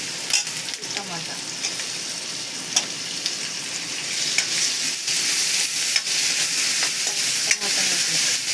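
Tomatoes being stirred into an ivy gourd curry frying in a pan, with a continuous close sizzle broken by scraping spoon strokes and occasional taps against the pan, and someone speaking faintly in the background.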